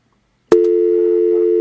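A telephone busy signal sounds as one loud, clean, steady tone that starts abruptly after a brief click and holds for about a second before cutting off.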